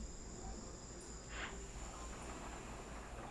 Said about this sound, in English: I am sorry that I must deprive you of the crickets.